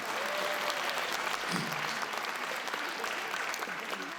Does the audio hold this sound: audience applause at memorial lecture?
yes